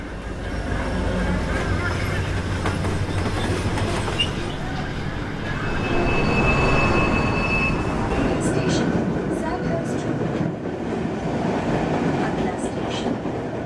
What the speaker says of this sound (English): Trains are a common means of transport in India.